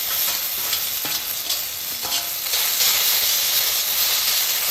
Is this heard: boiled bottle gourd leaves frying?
yes